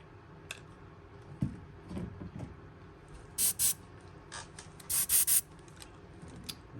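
Short bursts of hissing chrome paint from a spray gun come in quick pairs and clusters, sharp and close, with faint rubbing and handling noises between them, as a fishing lure is lightly coated.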